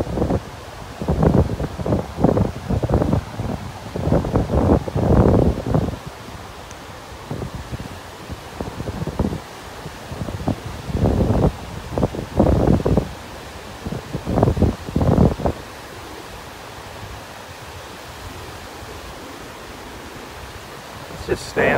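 Waves and wind on a beach in North Naples, Florida: a steady windy rush, broken for the first fifteen seconds by rhythmic bursts of surf breaking close by, then easing to a softer, even wash.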